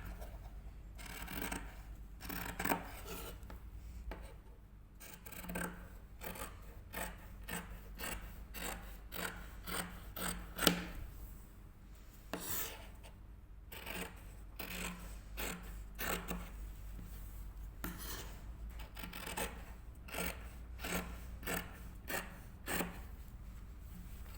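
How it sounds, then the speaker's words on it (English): Steady snipping and rasping from scissors cutting fabric pattern pieces along a marked line, a long run of soft, closely spaced crunchy strokes with brief pauses, quiet and close with no talking. "I'm going to cut that out"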